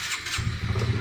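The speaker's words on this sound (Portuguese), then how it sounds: "Quando a moto tá com a bomba fraca, a bomba de combustível, aí acontece isso aqui, ó." A motorcycle engine with a weak fuel pump sputters as it tries to start, a rough, uneven low chugging that catches briefly, heard close and fairly loud with no talking.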